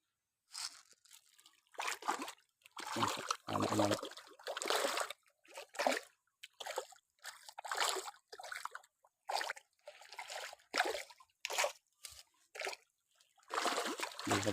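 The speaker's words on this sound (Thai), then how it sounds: "เยอะมากมากครับปลา โอ้ มีกระโดดด้วย ชนกันกลางอากาศ" Freshwater fish in a farm pond splash and leap at feeding time, giving repeated short watery slaps and splatters in irregular bursts, some overlapping, close and fairly quiet with brief gaps between.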